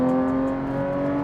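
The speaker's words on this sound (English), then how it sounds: "I'm gonna downshift here." A DeMan 4.5L Porsche GT3 Touring with a manual gearbox holds a loud, steady engine note during a downshift, a strong droning rev heard close from inside the car without talking.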